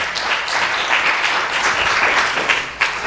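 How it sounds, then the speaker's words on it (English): Audience applause rings out at the close of a religious class at a temple, dense steady clapping filling the room without pause for about three seconds. "a big round of applause to Maharaj"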